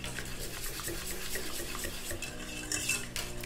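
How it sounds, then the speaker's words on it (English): Stirring gum slurry into a surfactant base for a body wash concentrate, close, continuous scraping and clinking of a utensil against a lab container in a steady rhythm, with no voices. "give that a good stir until the gum is homogeneous"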